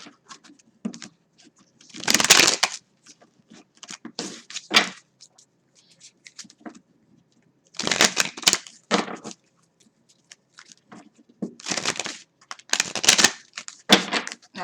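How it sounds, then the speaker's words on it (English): A tarot card deck is riffled in several quick, crisp bursts, with a pause between each, close and fairly loud, with no talking over it. "Let me shuffle."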